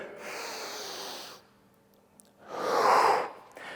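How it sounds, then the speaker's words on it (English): Two strong breaths drawn through the nose, a long one followed after a pause by a louder, sharper sniff, close and alone. "breathe in strongly through the nose"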